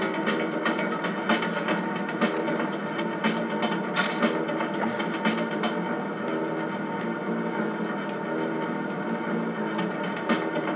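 Mechanical whirring and clanking of a running elevator in a Spider-Man video game, a steady grinding drone with faint periodic ticks, no voice.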